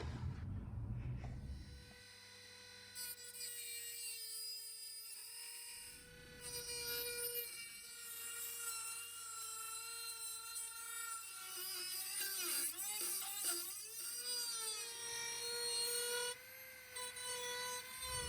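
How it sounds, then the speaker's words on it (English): A Dremel rotary tool cutting out rust on a Mercedes R107, a high, close, whining grind that rises and falls in pitch as it bites into the metal, with brief low thumps between cuts. "I'm just going to see if the Dremel will allow me to cut this section here out"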